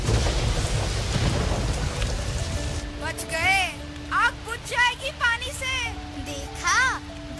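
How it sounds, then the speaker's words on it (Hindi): Rumbling thunder with steady rain fills the opening seconds, then the storm sound drops to a softer background while a voice speaks over it. "पानी तो बरसना ही था, कल शाम से बादल गरज रहे थे।"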